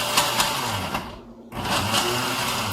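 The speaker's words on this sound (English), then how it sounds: "It's gonna take some work on the blender, but it works." Blender whirring through bananas for dairy-free plant-based chocolate ice cream, a loud steady motor drone that strains and dips briefly mid-run before surging back to full speed.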